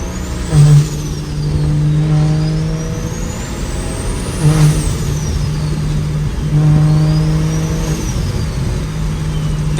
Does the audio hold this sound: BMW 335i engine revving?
yes